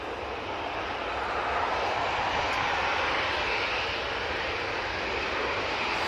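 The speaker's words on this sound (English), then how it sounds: "So, have another air tanker coming over." An air tanker aircraft flies over near Manchester Airport, its steady engine roar swelling slightly and holding loud and broad throughout, with no talking.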